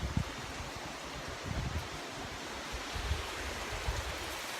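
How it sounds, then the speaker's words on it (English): A waterfall reached on a hike in Ireland roars as a dense, steady rush of falling water, broad and constant with faint gusty rumble underneath and no voices. "So we found the waterfall."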